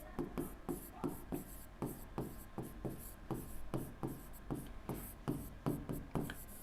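Multiples of 20 are written by hand during a maths lesson: a steady run of crisp, rhythmic scratching strokes, close and fairly loud, with no talking.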